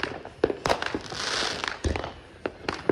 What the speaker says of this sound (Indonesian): Masya Allah ini nih petasan sesungguhnya atau apa ya kembang api sesungguhnya. Terang banget.